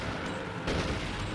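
Gunfire from the Monster Hunter 4 Ultimate video game during a Diablos hunt, a dense burst of loud blasts with a sharper shot about halfway through, over steady game noise with no talk.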